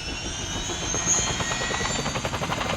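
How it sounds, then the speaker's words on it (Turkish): Steady video game helicopter rotor drone with a rhythmic thumping chop, loud and continuous throughout, no voices present. "Helikopterim geri geldi."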